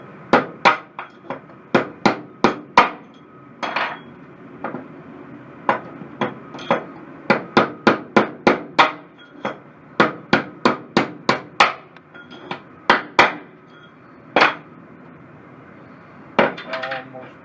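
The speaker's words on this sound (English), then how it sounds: "Just get you a drift punch and go down in the spindle. You can catch the edge of the race." A hammer strikes a drift punch down inside a mower blade spindle to knock out the old bearing race, sharp metallic blows landing in quick bursts and pauses across the whole stretch, close and loud, with brief talk in between.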